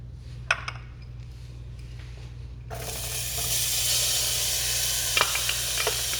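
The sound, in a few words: onion, garlic and scallion sautéing in avocado oil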